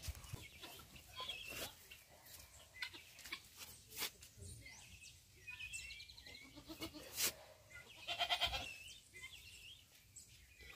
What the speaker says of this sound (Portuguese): O nosso bode aqui.